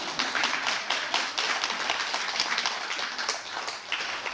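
An audience claps in a steady, dense patter through a talk about traditional Korean dance, the applause filling the moment alone at moderate distance.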